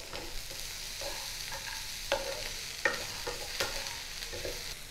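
Bitter gourd and bori being stirred in a hot pan: a steady low sizzle under repeated spatula scrapes and taps at an irregular, unhurried pace, heard close up with no talking.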